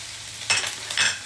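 Garlic and onion hit a hot pan for pork guisantes, giving two short bursts of bright sizzling with brief stirring scrapes, close and moderately loud, with no talk.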